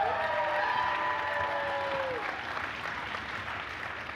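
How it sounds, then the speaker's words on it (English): A live audience at a Borderlands 3 gameplay reveal applauds and cheers, dense clapping with a whoop at first, holding steady and easing slightly toward the end. "These people cheer"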